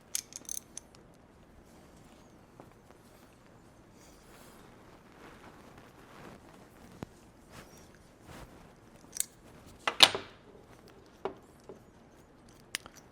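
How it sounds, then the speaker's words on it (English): A 13mm wrench works a nut off a boat hatch lifting handle in quiet surroundings, giving sparse metallic clicks and ratcheting ticks with one sharper clank partway through. "And with your 13mm wrench, you take this off."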